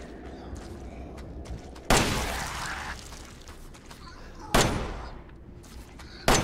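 Gunshots with improved ammunition in Resident Evil 7 Biohazard, a mine setting, two loud sharp blasts several seconds apart that ring out into a decaying tail, then the start of a third, over quiet background sounds.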